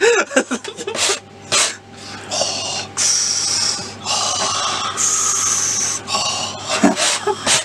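Heavy breathing from a person concentrating while cutting out a plastic RC car body, loud close snorting and hissing breaths in uneven bursts, some broken by short gaps.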